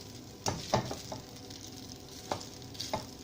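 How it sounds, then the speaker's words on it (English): Chicken Schezwan noodles sizzle in a pan as they are mixed, a soft continuous frying hiss with a few sharper scraping and tossing knocks from the utensil, close by. "I'll mix the noodles well, as you can see."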